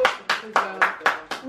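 A few people clap together at a food party with colleagues, six separate loud claps spaced about a quarter second apart, close by, no talk over them.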